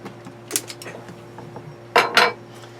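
A clamp comes off the high-pressure fuel pump of a Volvo Penta engine with a few sharp metallic clicks and scrapes, ending in a louder pair of clanks, close and without speech.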